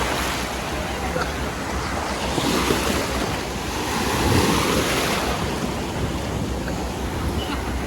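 Small ocean waves wash and break along a beach in a steady rushing surge, loud and close, with wind buffeting the microphone.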